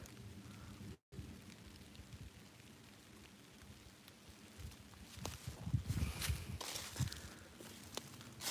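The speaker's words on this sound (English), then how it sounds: "It starts raining." Steady rain patters through cold, foggy woods, a soft, continuous hiss that swells slightly midway, with occasional rustling steps and faint crackles.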